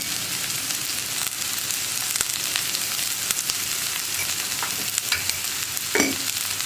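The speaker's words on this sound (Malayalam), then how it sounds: "സവോള ഒന്ന് ബ്രൗൺ ആയി വരുന്നത് വരെ നമ്മൾ ഇളക്കി കൊടുത്തുകൊണ്ടിരിക്കണം" Onions for kappa masala curry sautéing in a pan, a steady sizzle running throughout with scattered scraping stirs of a spoon, close and moderately loud, with no talking.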